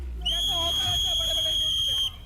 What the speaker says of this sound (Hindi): और ये रेफरी की सीटी।